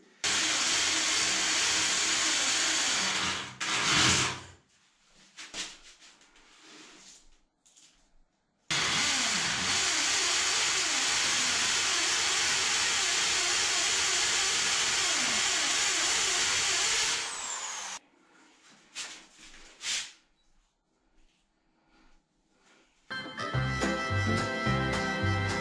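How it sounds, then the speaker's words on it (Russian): A power drill whirs loudly up close, drilling holes for anchor screws during bathroom tiling, running in a short burst and then a long sustained run, followed by quieter clatter and handling noise. "Сейчас буду дырки сверлить и вставлять буду анкерные шурупы."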